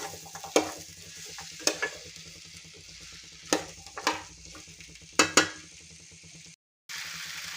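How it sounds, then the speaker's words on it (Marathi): Vegetables coated with spices are stirred in hot oil for a traditional Bhogi bhaji, a steady low sizzle broken by sharp scraping clicks of the spoon against the pan, then a brief silence. "सगळे मसाले भाज्यांना लागले पाहिजेत असं आपल्याला फिरवून घ्यायचं आहे"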